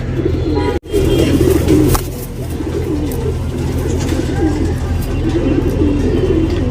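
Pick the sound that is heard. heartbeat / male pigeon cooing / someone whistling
male pigeon cooing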